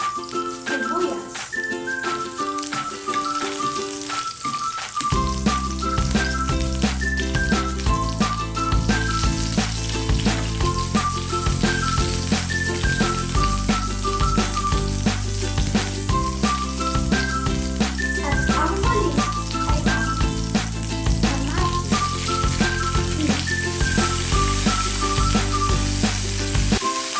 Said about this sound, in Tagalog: Hayaan muna natin na maluto ang sibuyas, bawang at kamatis.